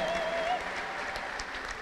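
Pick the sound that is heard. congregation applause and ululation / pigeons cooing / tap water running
congregation applause and ululation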